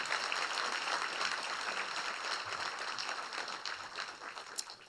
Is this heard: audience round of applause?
yes